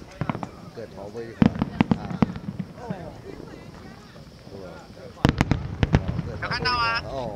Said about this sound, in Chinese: 在我附近有10几个烟火啊